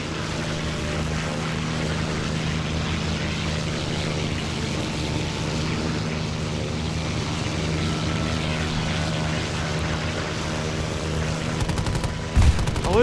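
A propeller warplane drones steadily and loud throughout a 1940 Battle of Stonne scenario in a war game, with a dense engine hum and a sharp burst near the end.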